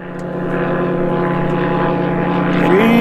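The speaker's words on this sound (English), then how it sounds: "Freedom Fox, it is an awesome aeroplane." Freedom Fox bush plane with a roughly 100-horsepower propeller engine drones loud and steady throughout, its pitch rising slightly near the end as the engine revs up.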